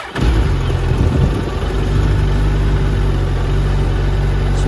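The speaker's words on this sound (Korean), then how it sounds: "순정 머플러지만 시끄러운 것을 싫어하는 저에겐 굉장히 마음에 드는 배기 사운드였습니다." A Suzuki Hayabusa motorcycle on its stock exhaust idles just after startup, with a steady low, deep rumble close by and an even, continuous tone.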